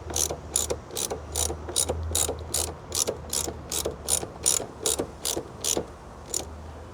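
A ratchet clicks in quick rhythmic bursts, about a dozen strokes in a row, tightening a bolt on a Rally Armor mud flap on a Tesla Model 3, close and clear.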